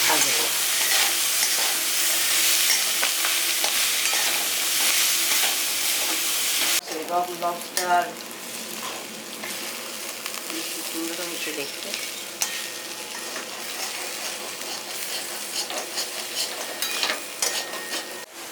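Taro stems fry in plenty of oil with turmeric, hissing loudly and steadily up close for several seconds before the sizzle drops away to quieter kitchen clatter and scattered sounds.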